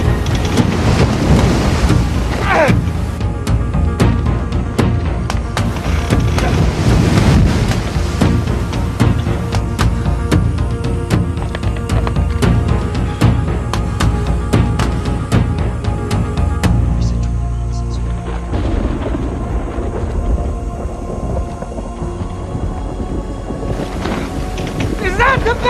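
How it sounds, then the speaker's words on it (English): A storm roars with heavy rain and rumbling thunder, a loud continuous wash of noise with deep booming swells and a brief lull near the end; no voices are heard. "A storm is coming, Frank says."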